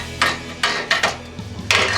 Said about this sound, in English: Now I'm gonna take and bend the sheet metal up with a pair of pliers